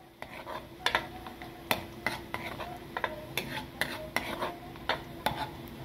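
Garlic browns in a pan for adobo with fish head, a soft sizzle under repeated sharp clinks and scrapes of a utensil stirring against the pan in an irregular rhythm.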